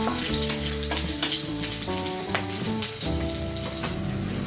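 Hot oil crackles and hisses continuously around nigella seeds and chili being fried for a vegetarian saag tempering, with a steady tonal background beneath the close, even sizzle.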